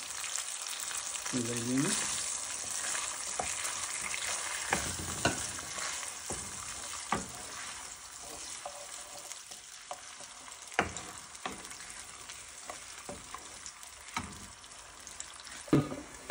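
Onion and garlic paste with spices frying in a pan for a bottle gourd curry, a steady broadband sizzle with occasional stirring clinks and scrapes, plus a brief voice near the start.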